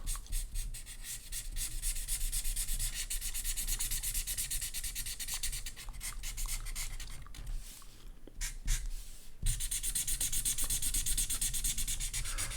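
Rapid, dry, scratchy scribbling of a dried-out Sharpie marker on a stack of paper, continuous and close, with a brief lull near the end before it resumes.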